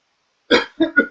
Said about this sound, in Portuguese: Desculpe a tosse.